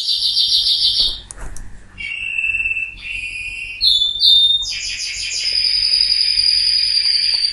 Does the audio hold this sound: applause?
no